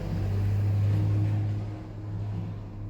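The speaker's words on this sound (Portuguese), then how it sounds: "O carro passou." A car goes past outside, a low rumbling engine drone that swells to a peak near the middle and then gradually fades off into the distance.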